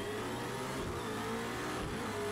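McLaren P1 GTR engine in the Project Cars 2 video game, a loud, steady revving drone that holds throughout with no voices.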